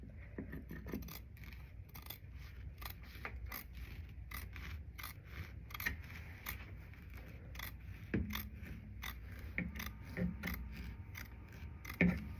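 Scissors cut through African waxprint cotton fabric in a steady series of close, crisp snips and slicing scrapes, quiet and regular, with no voices.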